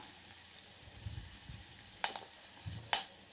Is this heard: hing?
yes